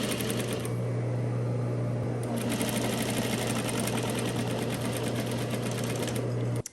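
A sewing machine runs a French seam at a 3/8-inch allowance on wrong sides of a garment, a loud continuous rattling hum close by, holding steady for nearly seven seconds before cutting off abruptly.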